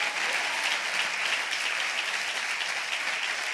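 A church congregation breaks into sustained applause, a dense, even wash of many hands clapping at steady volume for the whole stretch, with no voices standing out.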